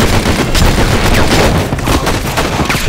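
Rapid loud gunfire from the video game Enter The Matrix, dense overlapping shots in a sustained fusillade with no speech.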